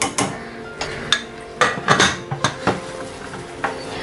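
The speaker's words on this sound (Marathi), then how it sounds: "आता कुकरचं झाकण लावून घेते" Metal lid being fitted onto a pressure cooker holding simmering sprouted horse gram curry, a series of close clanks and clinks of metal on metal spaced irregularly over a few seconds, with no talk.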